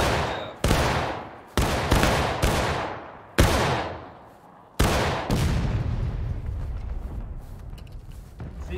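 Musket volleys crack out at a Civil War reenactment of the 8th Florida and 8th Alabama, five sharp loud discharges spaced about a second apart, each trailing off into rolling echo, then scattered ragged shots and crackle.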